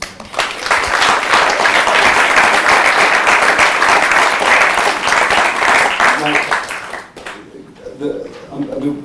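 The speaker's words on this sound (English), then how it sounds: "another round of applause for your panel" A debate audience on class, race and classical music applauds the panel with loud, dense, sustained clapping for about seven seconds before it drops away into quieter room noise.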